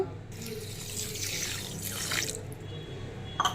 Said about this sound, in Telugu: చిన్న గ్లాసు వాటర్ పోస్తున్నా.